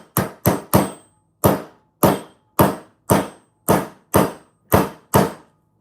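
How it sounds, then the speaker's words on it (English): A hammer strikes about eleven times in a steady, fairly even rhythm, each blow a loud, sharp impact with a quick decay. The strikes are close and clear, with no talking over them. "Hammer time is taking a long time."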